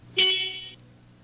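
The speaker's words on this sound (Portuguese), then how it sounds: "Verifique a buzina." A single car horn honk, loud and close, holding steady for about half a second before cutting off.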